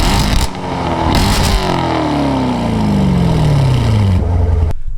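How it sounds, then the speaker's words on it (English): A C7 Corvette with an AWE catless X-pipe exhaust revs hard up close, then the engine pitch falls steadily as it winds back down before cutting off abruptly. "now it's time for the decibel test after the AWE Xpipe has"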